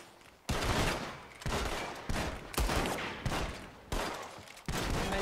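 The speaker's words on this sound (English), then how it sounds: "Am I just shooting like that?" Gunfire rings out during a Wild West shootout in Red Dead Redemption 2: about half a dozen loud, booming shots with reverberant tails, fired at uneven intervals less than a second apart.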